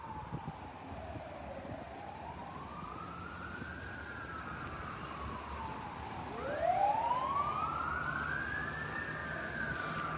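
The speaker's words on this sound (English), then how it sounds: "And they got the sirens going into the night." Fire engine sirens wail at night at a burning cotton mill, two rising and falling tones sweeping and overlapping, one passing louder and nearer toward the end over a steady traffic rumble.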